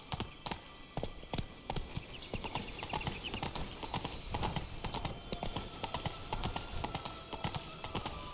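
Horse hooves clip-clop steadily at a trot for Roach in The Witcher video game, a brisk repeating rhythm of sharp, close hoofbeats over a busy background bed.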